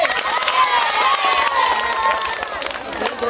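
An outdoor village audience claps and cheers after a wooden-board ball-carrying challenge played by girls, with the applause mixed with excited shouting and voices throughout.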